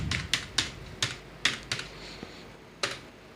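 Keys tap on a computer keyboard while company details are entered into Tally ERP 9, giving sharp, close clicks in irregular bursts with short pauses between them.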